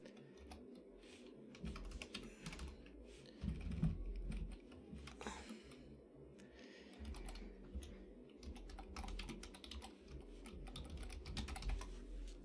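Rapid clicking of a computer keyboard being typed on, close and fairly quiet, in uneven bursts with brief pauses.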